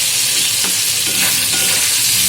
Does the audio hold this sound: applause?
no